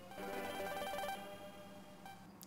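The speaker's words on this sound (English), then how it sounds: "We got a phone call." A synthesized video game phone ringtone from the Pokemon Sors 2 ROM hack rings in a dense, buzzy electronic tone for about two seconds, faint and alone, with no voices.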